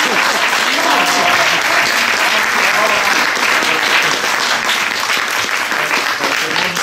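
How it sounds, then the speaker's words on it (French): A theatre audience at a Théatro Château-Thierry show bursts into steady, dense applause for a man known as Fanfan, loud clapping filling the hall without a break. "je pense qu'on peut l'applaudir"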